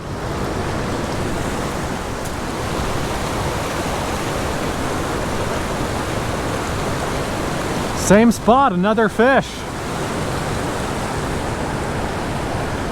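A boulder-strewn river rushes steadily and loudly, a dense even roar of water that never lets up, while someone speaks briefly over it for a second or so partway through.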